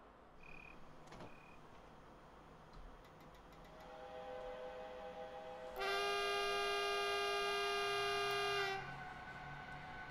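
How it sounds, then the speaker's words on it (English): A passenger train pulls away from Farchant Station on the Munich–Garmisch-Partenkirchen line. A sustained multi-tone horn sounds loud and close for about three seconds over steady rolling rumble. Earlier, a softer motor whine builds as the train gathers speed. "Departing Farchant Station, we are departing at a speed limit of 100 kilometers per hour."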